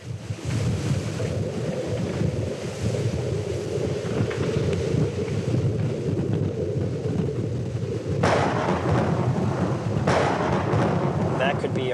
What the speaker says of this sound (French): Je vois un orage vraiment intéressant qui est en train de naître sur le front là-bas.